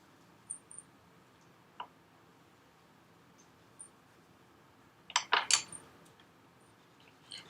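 Crayon scratching over layered red and blue wax on paper, mixing the colors, heard as a quick cluster of close, dry scraping strokes after a few faint scattered ticks.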